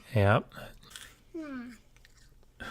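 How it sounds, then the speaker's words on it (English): An apple bitten and chewed close by gives crisp, wet crunches in short bursts behind a person's brief speech. "If you hear an apple crunching in the background"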